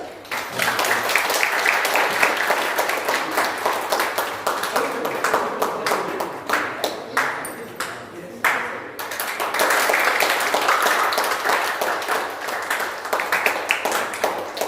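An audience applauding at an award ceremony honouring writers, dense sustained clapping that continues for the whole stretch, briefly dipping near the middle before swelling again.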